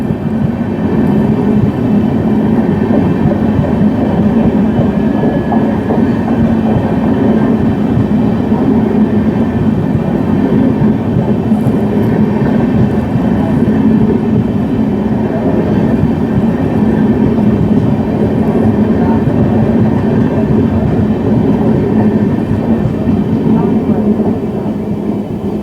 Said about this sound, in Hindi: सियालदह से चल के नई दिल्ली को जाने वाली नई दिल्ली राजधानी एक्सप्रेस ऑटोमेटिक डोर्स के साथ